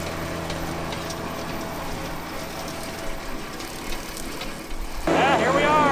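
A compact tractor with a front loader fitted runs steadily in the background during brush hogging, with a constant low drone, and grows louder and rougher near the end as people talk over it.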